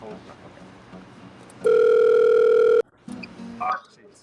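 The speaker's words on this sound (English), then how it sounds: "Oh, so we're taking another phone call." A loud steady telephone dial tone holds for about a second during a phone call taken on a live charity stream, following quieter background talk and followed by brief sounds.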